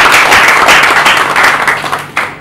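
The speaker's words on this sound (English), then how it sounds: "Can you please give her a round of applause?" An audience at a Sterling Bank executive gathering applauds an external consultant, steady dense clapping that fills the room and tapers slightly toward the end, with a brief louder burst near the close.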